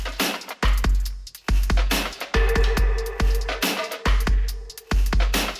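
Trap-style programmed drum beat with punchy deep kicks, stacked snares, percussion and ticking hi-hats, looping at a steady tempo, loud and alone with a brief sustained tonal layer in the middle.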